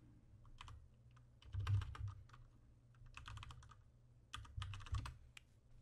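Someone types on a computer keyboard in short bursts of quiet, close key clicks, with brief pauses between them.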